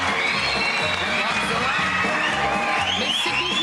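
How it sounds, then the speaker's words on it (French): Crowd applauding, cheering and whooping loudly for the Borman sisters on the casino steps in Paris, a dense, steady roar of clapping and shouts under bright, sustained musical tones throughout. "Applaudissements."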